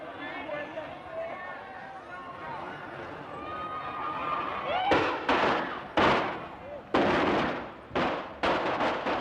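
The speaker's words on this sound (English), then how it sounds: "What sounded like shots turned out to be Chinese firecrackers." Chinese firecrackers burst in a series of sharp, loud cracks at an outdoor political campaign event, arriving in an irregular cluster after a stretch of crowd noise.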